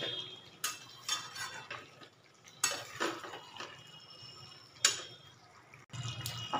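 Prawns being stirred into a pan for potol chingri, a Bengali pointed-gourd and prawn curry: quiet scraping and clinking of a utensil against the pan in irregular strokes, with a soft background hiss and no talking.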